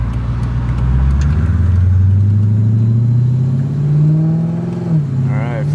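A Mercedes CLK55 AMG with a swapped M113K supercharged engine and tuned transmission accelerates hard on a street in agility mode, a loud close engine drone climbing steadily in pitch for several seconds before easing, with a voice briefly talking over it.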